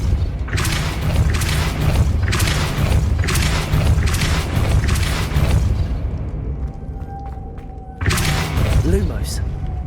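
Magic spell effects in the Hogwarts Legacy video game, a series of heavy booming bursts and thuds in quick succession, followed by a short lull with a faint tone and then another loud burst.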